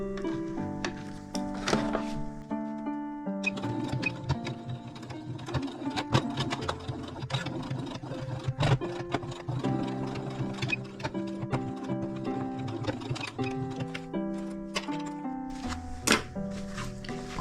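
A sewing machine stitches fabric for a simple pouch, with rapid mechanical ticking and thumping running steadily for the full stretch, close and fairly loud over a faint tonal background.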